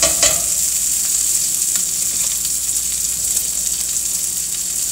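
Bacon sizzles steadily in a pan, a dense bright hiss with occasional scraping knocks of stirring, continuous and fairly close, with no talk.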